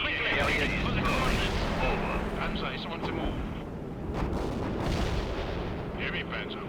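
Artillery fire booms through a war video game battlefield, a dense continuous roar of distant blasts and gunfire with rumbling explosions, loud and layered throughout.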